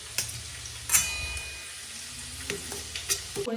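Paneer frying in a pan makes a low steady sizzle, with several sharp utensil taps and scrapes against the pan close by.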